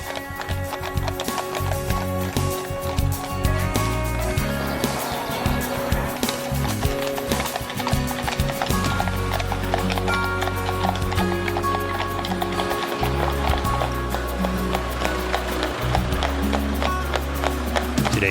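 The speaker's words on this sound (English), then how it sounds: "As wagons string into Appleby Town Center, making their way to the fairgrounds, steps are a bit livelier." Horses' hooves clip-clop steadily on the road as a procession of horse-drawn wagons arrives at Appleby Fair, with wheels rumbling and crowd noise underneath, continuous and fairly close.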